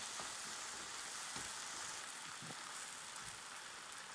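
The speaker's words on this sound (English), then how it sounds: "So I'll keep stirring it." Risotto rice made with Cumbrian potted shrimp being stirred in a pan as it soaks up liquid, a constant loud bubbling sizzle with soft periodic scrapes and swishes of the spoon, no talking.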